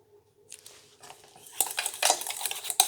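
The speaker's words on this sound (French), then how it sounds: "Et je remue." A spoon or spatula stirs homemade calendula-enriched cosmetic cream in a container, giving close scraping and clinking strokes that start soft and grow louder and busier over the last second and a half.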